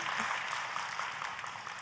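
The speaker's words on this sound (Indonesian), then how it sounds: "Mau tepuk tangan saudara." Faint, steady applause from a church congregation during a sermon, a brief continuous patter of clapping heard at a distance without talk.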